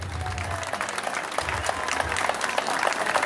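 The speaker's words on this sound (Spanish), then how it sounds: "yo voy a pedir un gran aplauso para el padre Ramón Montón." A crowd in a chapel hall applauds a priest during a 50th anniversary celebration, with dense, loud clapping that continues steadily throughout.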